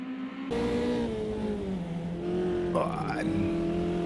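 Race car engines in a sim racing video game drone and whine steadily, pitch rising and falling through gear changes, with a second car passing close, under a commentator's talk.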